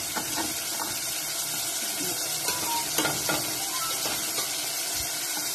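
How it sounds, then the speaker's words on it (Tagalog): Pork pieces deep frying in hot oil, a steady dense sizzle with bubbling and occasional crackles and spoon clinks throughout, fairly close. "Ayan po natin deep fried po siya, deep fried."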